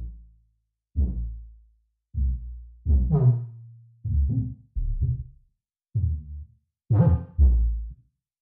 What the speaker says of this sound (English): Yeah, so the 808 sounds like this.